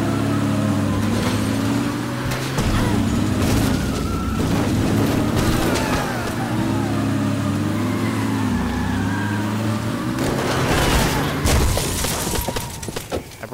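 A car engine roars amid a string of loud crashing impacts and smashing sounds as a car runs over zombies in Dead Rising, with a voice talking over the chaotic noise.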